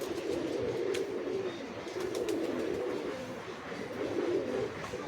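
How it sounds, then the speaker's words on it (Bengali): A male pigeon coos in soft, low, rolling bursts, repeating several times at close range over a faint background rumble. "এই একটা মদ্দা পায়রা দেখেন"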